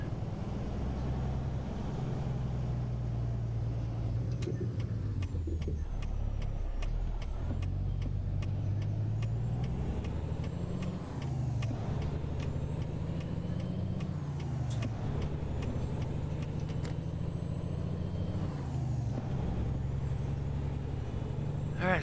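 A T800 truck drives through Oregon in American Truck Simulator, its engine a steady low rumble that rises and falls through gear shifts with occasional hissing air bursts, continuous and close.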